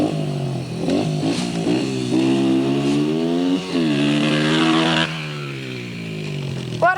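A dirt bike engine revs loud and close, its pitch climbing and falling in long sweeps over about seven seconds, with a brief dip midway and a rattly mechanical edge.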